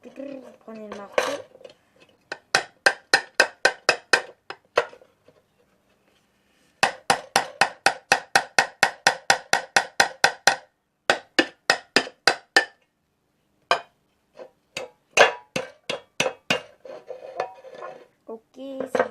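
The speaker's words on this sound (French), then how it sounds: "Vous prenez le marteau." Hammer blows on a tin can while making a small can stove, struck in quick regular bursts of about ten metallic taps each, separated by short pauses, close and loud with no talking.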